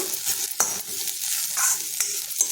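Fenugreek and spinach greens sauté in a pan, a steady sizzle broken by several sharp scraping stir strokes at an uneven pace, close and fairly loud, with no voices.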